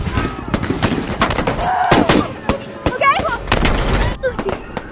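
Sharp gunshots crack repeatedly amid a dramatic, noisy scene with voices and music underneath.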